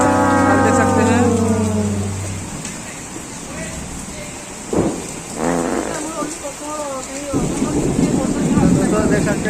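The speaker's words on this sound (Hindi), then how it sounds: "बहुत भारी बारिश हो रहा है" Very heavy monsoon rain pouring down in a village near Raipur, a dense, steady hiss that fills the whole scene, with a horn blaring at the start and someone talking over the downpour.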